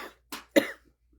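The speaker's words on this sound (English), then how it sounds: "Gonna cough." Three short coughs in quick succession, close and clear, the last one the loudest, followed by quiet.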